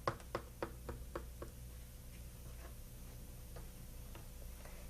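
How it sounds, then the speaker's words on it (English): A knife cuts a boiled sweet potato in half on a board, giving a quick run of light taps and knocks at the start that fade into a steady low hum, with no speech. "what we need to do is cut it in half"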